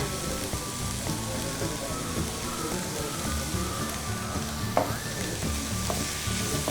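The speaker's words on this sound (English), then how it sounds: "Saute for another 2 to 3 minutes." Ginger capsicum fried rice sizzles and fries steadily in a hot pan while being stirred, a continuous close crackle with faint scraping, no talking.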